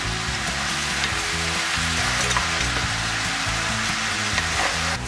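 Vegetables with sweet bell pepper stew and sizzle in a hot pan, a continuous dense frying crackle at steady volume with no talking.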